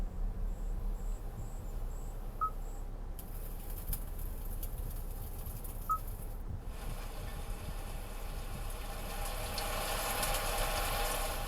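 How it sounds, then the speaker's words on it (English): Ambient nature sounds from the media system of a 2022 Kia Carnival, with steady cricket chirring and a few faint bird calls over a low soft background wash, even and continuous, with no talking. "we've got our sounds of nature, which essentially is just ambient sound"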